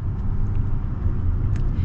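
The Duramax diesel in a 2024 Chevy Silverado 3500 dually runs in a smooth, low, steady rumble, heard from inside the truck with no talking.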